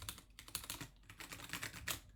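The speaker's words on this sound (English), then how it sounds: "I wonder how loud my keyboard is in this mic." Quiet, steady typing on a computer keyboard during a computer setup session, a rapid run of soft clicks with small irregular bursts and no one talking.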